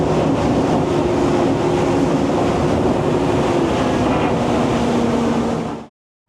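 A Saxdor 270 boat motors over water on a cold wintertime outing, its steady engine hum and hull rush loud and close for about six seconds before cutting off abruptly, with wind buffeting the microphone.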